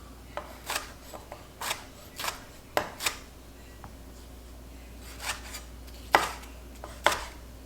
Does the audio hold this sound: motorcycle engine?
no